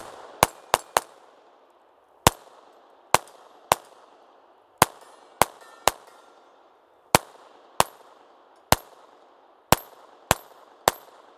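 A Taurus TX22 .22 handgun fires 36 grain bulk ammunition in about eighteen sharp, close shots, some in quick pairs and triplets and others spaced out, each with a short ringing decay.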